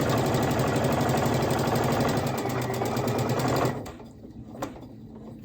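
A sewing machine chatters in a fast, loud, steady run while stitching rag quilt squares, then stops sharply near the end, leaving a few light taps and handling sounds.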